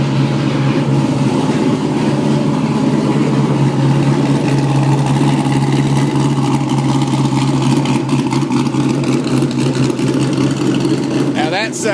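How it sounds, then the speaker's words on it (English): A Porsche Boxster converted with an LS3 V8 engine runs without mufflers, a loud, close, raw, deep rumble that holds steady at a high idle and revs briefly near the end. "V8 Boxster, no mufflers. Test number 1."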